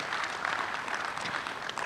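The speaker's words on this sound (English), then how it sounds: "A big round of applause." Seminar audience gives a round of applause, a steady moderate patter of many hands clapping in a large hall, somewhat distant.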